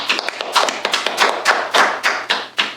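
Hands clapping in a quick, syncopated rhythm: about a dozen sharp claps in under three seconds, with uneven spacing and accents that give a lively, patterned beat, close and loud with no talking.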